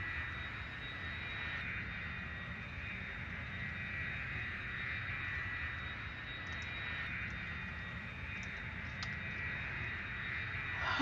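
Airplane engines idle in Cities: Skylines as a steady low, broad drone with a thin whine above it, constant for the whole stretch and swelling slightly at the end.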